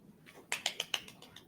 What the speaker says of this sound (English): Clap, clap, clap. We're clapping.